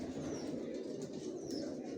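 Adult racer pigeons of the Johnson line, wearing leg tags, coo in a low, continuous murmur close by, with faint rustling and an occasional soft higher chirp.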